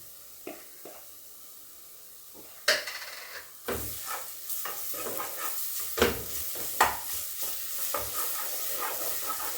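Garlic hits a pan of golden-brown fried onions for beef pilau and sizzles steadily while a utensil stirs, scraping in a series of close, uneven strokes after a quieter opening.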